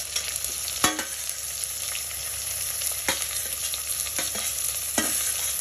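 Tomatoes and vegetables for a veg frankie filling are stirred in a sizzling frying pan, a steady fry hiss broken by a few sharp scrapes and clanks of the spatula, close and without talk.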